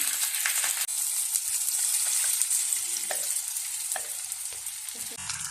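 Urad dal and curry leaves fry in hot oil with a bright, steady sizzle while batter for spicy kolukattai is prepared. The crackle is close and continuous, with a few sharp pops and stirring clicks. No one talks.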